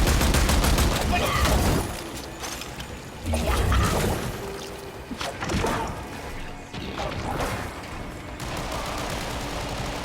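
Gunfire from a gun in the video game Warframe: dense bursts of shots and impacts in several loud clusters over a busy game mix, with talk running through.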